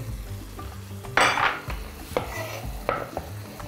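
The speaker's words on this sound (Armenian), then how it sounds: "թեթևակի կտրատում ենք և լցնում տապակվող բաղադրիչների վրա" Ingredients for a beef and bean soup frying in a pot, with a steady sizzle under loud clatters and scrapes of a utensil against the pan at irregular intervals.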